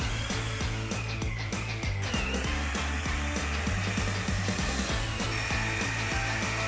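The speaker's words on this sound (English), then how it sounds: "mix our mortar" Tile mortar for a backsplash is mixed with a power mixer, a steady motor whir with rhythmic scraping and knocking of the paddle, continuous and fairly close, with no talk.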